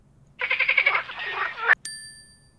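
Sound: frog croaking

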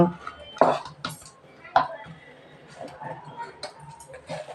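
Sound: serving pulao rice onto a serving plate

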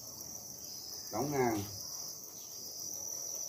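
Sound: crickets at a cricket farm

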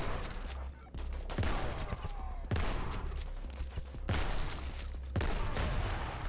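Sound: explosions in video game Krankenheit

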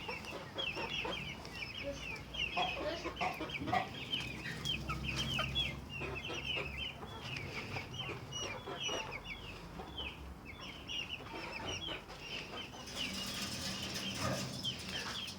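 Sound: chickens clucking in a coop

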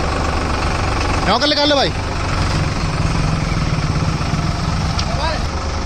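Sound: Sonalika tractor engines running in reverse gear

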